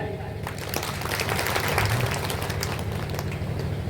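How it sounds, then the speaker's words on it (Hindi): A spiritual discourse audience applauds in a dense, steady wash of clapping that continues the whole time, mixed with voices and a low sustained musical tone. "बजाओ ताली।"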